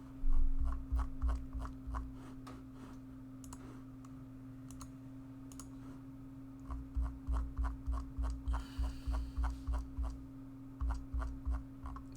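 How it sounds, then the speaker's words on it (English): A highlighter marking on an exam paper: rapid rhythmic scratchy strokes in two bursts, close and fairly quiet, with no talk. "marking highlights"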